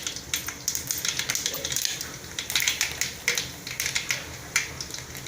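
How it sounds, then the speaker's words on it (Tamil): Mustard seeds with chana dal and urad dal sizzle in hot oil for vegetable noodles, giving dense, irregular crackling and sharp little pops that come close and loud in uneven bursts. "கடுகு நல்லா பொரிஞ்சு வரட்டும்."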